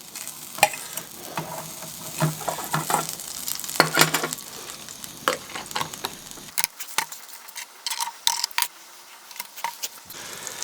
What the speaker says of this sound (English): Now I'm going to put my blackfish in while that margarine's still melting.